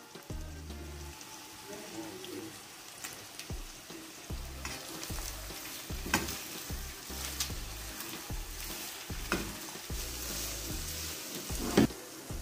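Carrots and mixed vegetables stir-fry over a high flame for Canton-style noodles, a continuous sizzle punctuated by repeated spatula scrapes and knocks against the pan, fairly quiet with no speech.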